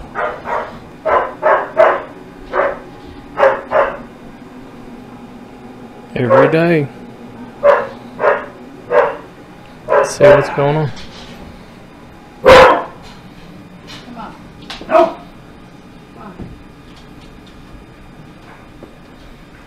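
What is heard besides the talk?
dog barking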